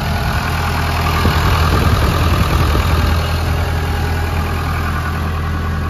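Diesel engine of a Case 580 L 4x4 backhoe loader idling steadily and close by, a loud continuous low rumble with faint knocking throughout, no voices.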